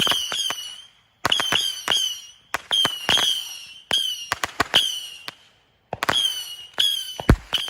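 A rapid string of sharp firecracker pops, some in quick bursts with crackling tails and brief gaps between volleys, loud and close.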